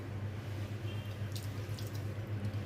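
A little water poured into a pot of loitta (Bombay duck) fish curry, a steady close trickle of liquid running alone for the whole moment, with a few brief faint clinks above it.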